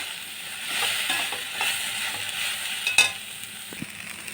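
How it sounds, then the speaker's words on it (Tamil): Okra and raw mango sautéing in a pan give a soft, steady sizzle, broken by light stirring scrapes and a sharp utensil clink near the middle. "வெண்டைக்காய் கொஞ்சம் வதங்கினதுக்கப்புறம் மாங்காயும் போட்டு ஒரு 2 நிமிஷம் வதக்கிக்கோங்க."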